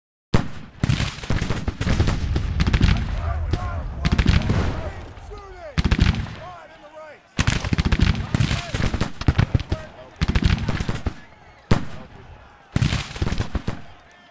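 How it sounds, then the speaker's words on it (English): Artillery fire in a Grand Tactician Civil War battle, heavy booming shots and crackling volleys arriving in rapid irregular bursts, loud and close, with brief lulls between clusters. "Alright, artillery. Show your power!"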